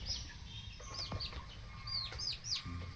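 Free-range village chickens cluck and chirp in a coop, with several short, rising calls repeated close by over a low, steady background hum and no voices.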